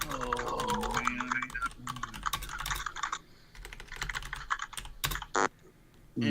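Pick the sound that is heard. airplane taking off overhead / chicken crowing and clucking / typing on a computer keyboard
typing on a computer keyboard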